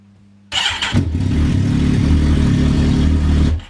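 A Kawasaki ZX14 motorcycle engine fires up for the first time after cylinder head assembly, catching abruptly from silence and settling into a loud, steady, close idle with a deep throbbing rumble until it cuts off.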